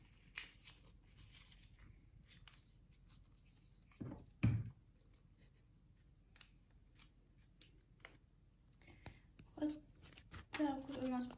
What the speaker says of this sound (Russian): кладем в пакетик и заклеиваем